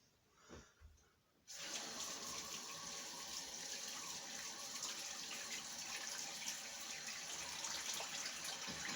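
A tap runs steadily into a sink while a shaving brush is rinsed, a close, even rush of water that starts abruptly after a couple of quiet seconds and keeps going.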